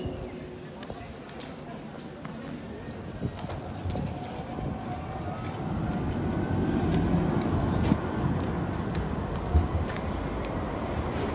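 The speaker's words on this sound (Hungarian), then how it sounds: "itt megvárjuk a Csoda villamost" A festively decorated Christmas tram pulls in through the centre of Miskolc, a rolling rail rumble with faint wheel squeal that builds and grows louder over several seconds, with brief chatter nearby.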